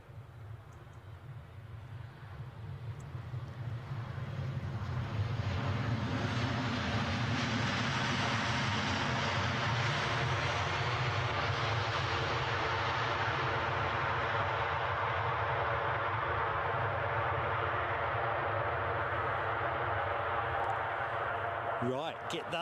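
An inbound Airbus A350 approaches Edinburgh Airport over the Firth of Forth, its jet roar swelling over the first few seconds and then holding loud and steady with a broad rumbling drone before trailing off at the end.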